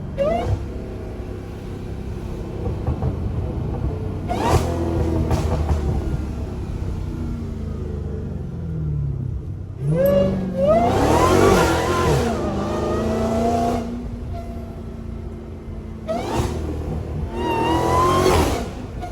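A Dodge Hellcat revs hard while driving, its loud engine rising and falling through repeated bursts of acceleration with a deep throaty roar and whining upper tones.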